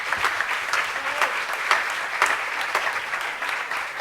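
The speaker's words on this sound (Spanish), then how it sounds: "Les pido otro fuerte aplauso más para la candidata de Viva Zuri Ríos." Audience applause for candidate Zury Ríos at a public forum: a steady, dense wash of many hands clapping, sustained at an even level for a few seconds without a break.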